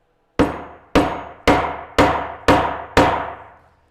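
Six loud, evenly spaced hammer blows drive pieces into wood while building a DIY squatty potty in a workshop, each strike sharp and close with a short ringing decay.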